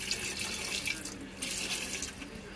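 Water from a tap runs into a pressure cooker while cooking chicken feet, a steady hissing splash that surges louder in two bursts, close and with no talking.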